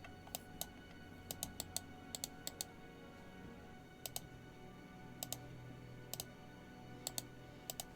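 Loud computer mouse clicking while playing Diablo 2 Lord of Destruction, with sharp single and double clicks in irregular bursts over a faint steady background hum, no talk.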